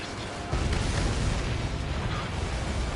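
An enemy transport blows up in the flight combat game Ace Combat 7: a sustained, roaring explosion rumbles loudly from about half a second onward, dense and continuous over jet noise.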